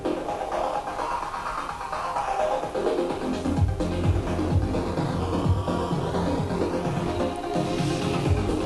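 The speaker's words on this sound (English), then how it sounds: "Crush is a short name for bit crusher, which is basically reducing the sample fidelity of the music." Dense music processed through a bit crusher effect that lowers its sample fidelity, giving a gritty, degraded, lo-fi texture with full-band noise throughout and no voices.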